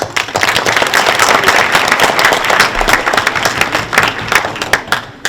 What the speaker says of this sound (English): can we get a round of applause for our 2 students?